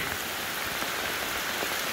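Rain falls steadily in a rainforest, a dense, even hiss of drops on leaves and surfaces with no breaks.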